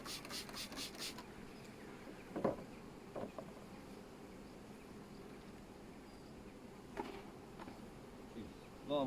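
Honey bees buzz softly and steadily close by at an Irish apiary while nucleus colonies are made, with a few brief rasping scrapes now and then.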